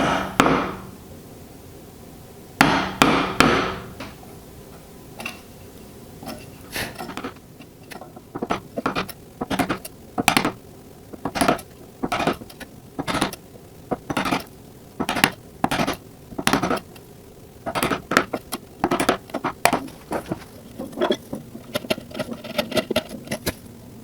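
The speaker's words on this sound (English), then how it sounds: "now I'm just going to chop out the mortise for this" Repeated sharp wooden chops and knocks from a chisel driven by mallet blows, chopping out a mortise in wood, in irregular bursts of strikes close by, with no talking.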